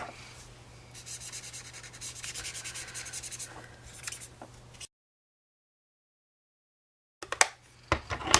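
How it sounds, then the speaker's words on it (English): A blender pen rubbing watercolor ink across paper, a soft continuous scrubbing for about five seconds, then a pause and a few shorter, sharper rubbing strokes close by. "you're just going to pick up some of that ink and rub it on your paper"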